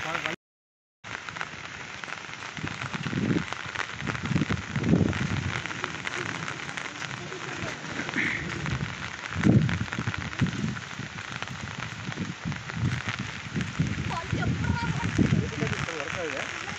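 Steady heavy rain pours down for the whole stretch in N.Vellalapalayam, a dense broadband hiss with occasional louder splashes and low thumps close by.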